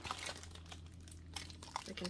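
A plastic bag from a Haus Labs mystery makeup box being handled and opened, giving close, faint, irregular crinkling and rustling with small sharp crackles scattered through it.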